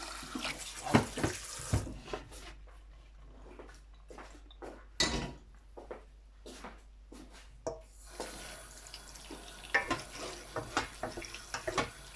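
Tap water runs and splashes in a sink as mushrooms are washed and rubbed by hand, with intermittent bursts of flow, wet handling and scraping, then steadier running water toward the end.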